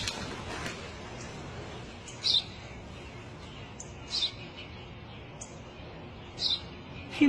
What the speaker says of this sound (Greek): σπουργίτι είναι.